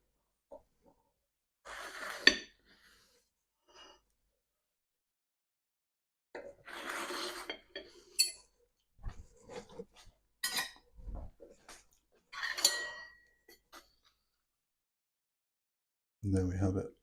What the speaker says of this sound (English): Now we're going to cut into it.